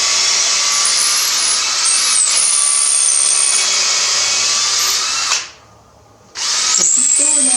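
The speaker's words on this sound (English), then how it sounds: "We're going to drill it through." Loud whine of a power drill drilling through a grill guard during a Ford Explorer LED light bar install, running steadily, cutting out briefly for about a second before starting up again.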